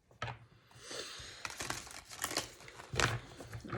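Tarot cards being shuffled: quick papery riffles and crinkly flutters in short bursts, close by and fairly quiet.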